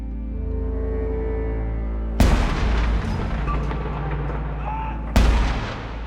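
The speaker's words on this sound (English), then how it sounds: "Cannons at the tower fire out, reverberating across London" Cannons fire at the Tower of London, two heavy booms several seconds apart, each sharp blast rolling into a long echoing tail over a low ambient rumble.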